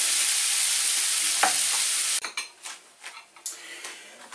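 Vegetable noodles and bean sprouts being stir-fried in a pan: a steady hiss at first, then a series of close scraping and clattering stirs against the pan.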